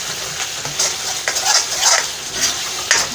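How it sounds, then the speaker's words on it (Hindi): Crushed coriander stirs and roasts in a pan for chicken karahi, with a steady, close sizzle and repeated scraping strokes of a spoon against the metal. "ये आपका कुटा भुना धनिया। ये भुनेगा इस तरह से।"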